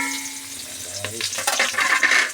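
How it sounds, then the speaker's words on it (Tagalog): Onion and garlic sauté in hot cooking oil, a close, steady sizzle with soft scraping and clinks of stirring that grow busier toward the end. "Lagay tayo ng mantika. Yan guys. Panggisa lang natin sa sibuyas, bawang."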